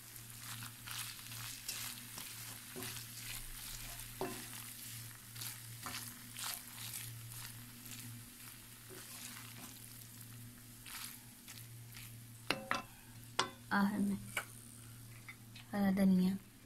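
Noodles being stirred in a pan with salt and black pepper, a soft sizzle with light scraping and clicking strokes. Near the end a voice cuts in with louder bursts of speech.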